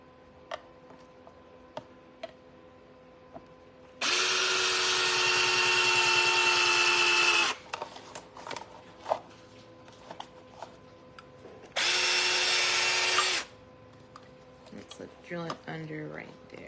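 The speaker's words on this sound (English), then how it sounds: "So we are going to drill into the male exactly where we need to." A power drill boring into a metal mailbox panel while building a trash can enclosure, heard as two loud sustained bursts of whirring separated by quieter clicks and handling noises.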